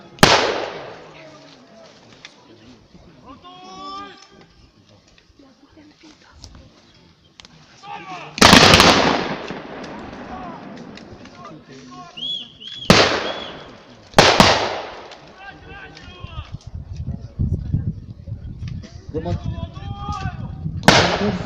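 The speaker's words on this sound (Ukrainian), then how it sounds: "Лунають перші постріли" Gunfire at a reenactment of a battle on Makivka mountain rings out as several loud, booming shots at irregular intervals, some close and echoing, with quieter crackling and a few voices between the blasts.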